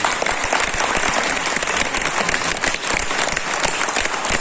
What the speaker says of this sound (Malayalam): കൈയൊന്നടിച്ച് നല്ലോണം കൈയടിച്ചു